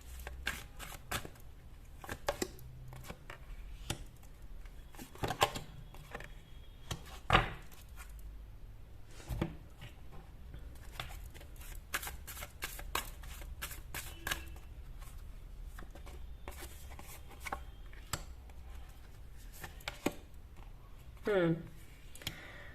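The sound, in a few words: shuffling tarot cards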